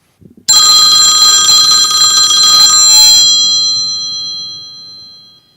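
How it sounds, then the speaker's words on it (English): A telephone bell rings loudly and continuously for about three seconds, then the metallic ring fades out slowly with no voices. "Phone's ringing."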